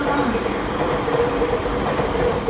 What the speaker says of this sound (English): The rapid train will arrive shortly on track 4.